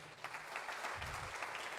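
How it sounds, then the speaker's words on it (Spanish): A church congregation claps together in a short, steady burst of applause at moderate distance, with no voices standing out. "Denle un fuerte aplauso al Señor."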